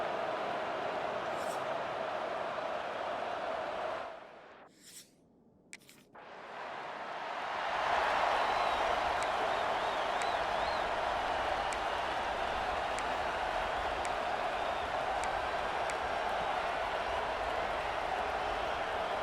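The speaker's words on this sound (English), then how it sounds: "This crowd bringing the energy and noise early." Loud, continuous roar of a stadium crowd in a college football video game, with a brief drop-out midway, then swelling back louder and sustaining steadily.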